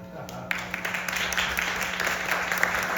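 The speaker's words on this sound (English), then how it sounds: "give yourself another round of applause" A crowd at a vaudeville theater in Wheeling, West Virginia applauds with a steady, moderate patter of clapping and a low hum underneath, with a voice briefly audible over it.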